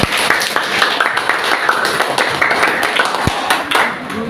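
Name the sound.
classroom students applauding groups' work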